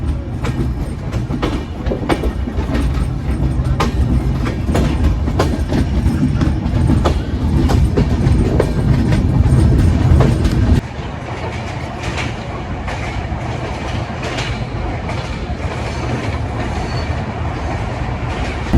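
The Kopotakkho Express passenger train runs steadily along the rails, a loud continuous rumble with rhythmic wheel clatter heard from on board, easing somewhat in intensity partway through.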